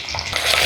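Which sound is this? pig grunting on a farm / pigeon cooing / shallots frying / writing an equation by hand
shallots frying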